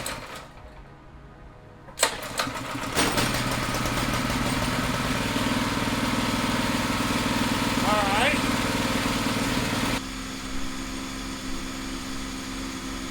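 A car engine starts after a few clicks and then idles with a steady, close rumble for several seconds before the level drops slightly, with steak cooking on the exhaust and people talking over it.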